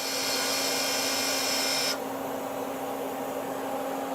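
Citizen K16EVIIP CNC Swiss lathe live tooling spinning at 3,000 RPM, a constant machine whine with a steady hum, shifting to a softer, slightly different tone halfway through and running on without pause.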